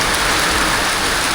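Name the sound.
heavy rain falling on a flooded house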